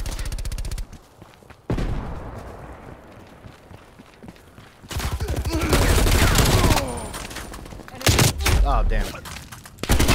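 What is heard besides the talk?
sniper rifle gunfire in video game Black Ops Cold War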